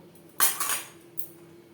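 A utensil clanks and scrapes against a pan as bottle gourd and prawns are stirred together, giving one sharp knock, a short scraping stroke and a lighter tap, close and brief.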